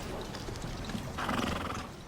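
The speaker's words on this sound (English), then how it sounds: "it was like real horses, real carriages inside a real castle" Real horses drawing carriages inside a castle courtyard, with a horse's whinny and hoof clip-clop heard at moderate distance, fairly quiet against a steady ambient background.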